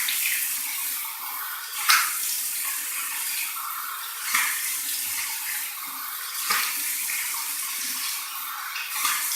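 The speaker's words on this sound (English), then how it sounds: "I like to do a warm water rinse from the tap with warm, clean water" Water runs steadily from a tap in a continuous hiss, with occasional splashes and sloshes as a face is rinsed with warm water under the stream.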